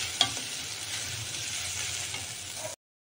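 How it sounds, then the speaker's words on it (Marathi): A spice tempering of curry leaves, red chilli powder and homemade garam masala sizzles steadily in hot oil, close and continuous, with a sharp stirring knock at the start before it cuts off. "आपली फोडणी छान तयार झालेली आहे"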